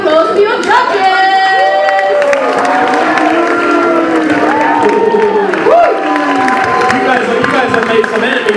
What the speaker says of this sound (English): So please give a round of applause for your judges.